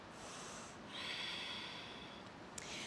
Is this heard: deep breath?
yes